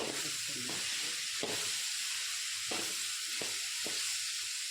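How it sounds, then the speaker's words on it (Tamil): Pickle premix ingredients frying in oil give a steady, loud, close hiss and sizzle that runs through without a break, with faint stirring knocks under it. "அஞ்சு நிமிஷம் ஆயிலில் வேகட்டுங்க"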